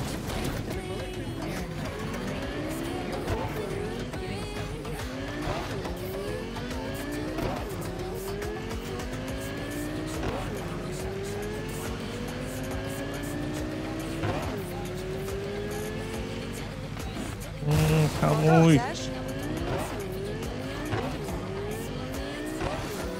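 A car in Cyberpunk 2077 drives on a rainy, overcast street, engine revving up and down through repeated gear sweeps with tire squeals, ending in a louder burst like a collision; a voice talks over it.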